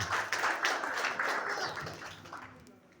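A church congregation applauding during a wedding service, a dense wash of clapping that starts full and fades away toward the end, with a murmur of voices underneath.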